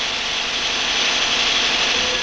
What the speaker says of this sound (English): This engine is being turned over for the first time.